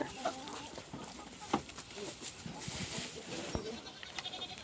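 Goats moving around a farm among cattle, with scattered faint bleats and bird-like clucks over a low background of rustling and knocks, heard at moderate distance with no talk.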